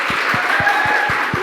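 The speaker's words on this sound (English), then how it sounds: "Can we have one more round of applause for Melanie?" A church audience claps and cheers for a performer at a comedic storytelling evening, steady crowd applause with a few rhythmic low thumps and a whistle-like tone riding over it.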